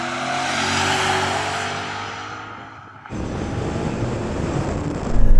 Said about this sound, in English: Now we're going to do a rolling race from 30 miles an hour, starting in second gear.